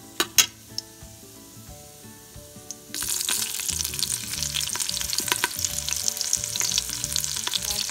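Whole spices, bay leaf and green chilies dropped into hot oil in a pot for tadka: a few sharp knocks, then from about three seconds a loud steady crackling sizzle that continues to the end, close up, with no voices.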